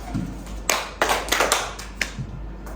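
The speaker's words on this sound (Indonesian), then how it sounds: "Tepuk tangan di telinga dan di hidung." Several sharp hand claps spaced roughly a beat apart during a group clapping exercise, touching hands to ears and nose at a slow pace, with a low hum underneath.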